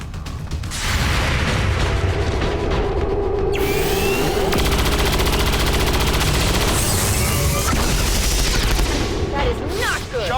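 Weapon fire in the turn-based strategy game XCOM 2 comes as a loud, sustained barrage blended with heavy booms and mechanical clanking. The dense, continuous din runs nearly the whole way through.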